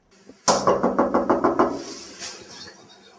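Someone knocks on a locked door in a rapid burst of about eight sharp, close raps, followed by a fainter second knock after a short pause.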